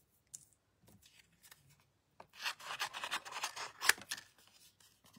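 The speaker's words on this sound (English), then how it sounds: "And then we're just going to fussy cut this." Scissors fussy cut paper up close and quietly: a few scattered snips, then a denser run of crisp, rasping cuts before the cutting tapers off.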